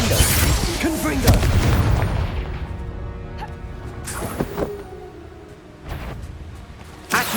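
Spell blasts from the Hogwarts Legacy game burst out in a few booming, crackling impacts over a busy backdrop of game combat sounds and a voice.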